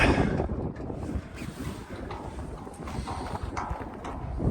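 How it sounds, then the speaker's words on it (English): Wind at Fort Revere Park in Hull, Massachusetts, a strong, continuous gusting rush buffeting the microphone throughout, with rumbling bursts and no talking. "That was a windy day."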